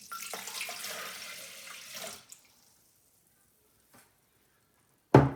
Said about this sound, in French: je commence ma recette en mettant 1 litre d'eau